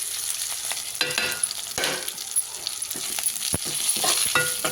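Sesame seeds fry in a little oil in a pan for tomato-sesame chutney, with crackling pops and scraping stirs over a light sizzle, in uneven bursts.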